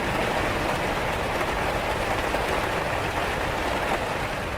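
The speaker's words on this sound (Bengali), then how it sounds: "নিমেষের মধ্যে শুরু হলো বৃষ্টি।" Steady rain in a stormy outdoor setting hisses evenly and continuously across the whole stretch, a dense broadband wash with no pauses and no voices.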